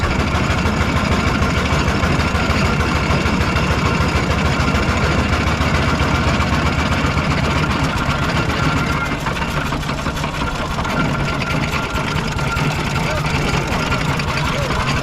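Steam locomotive engine drifting on a hill with the regulator closed, giving a steady, loud, continuous mechanical rumble and rushing noise throughout, with faint voices underneath.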